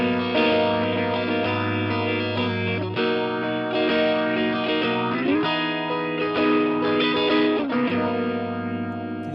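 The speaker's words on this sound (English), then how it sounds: "You guys heard that phaser right there" Electric guitar played through a Line 6 Catalyst amp with a phaser effect, sustained chords sweeping and swirling in a steady, rich wash, loud and close with no talking.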